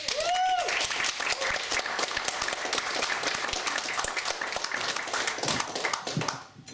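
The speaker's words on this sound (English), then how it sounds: "another big round of applause for another newcomer." Open mic night audience giving a newcomer a big round of applause: loud, sustained crowd clapping with a brief cheer at the start, tapering off sharply at the end.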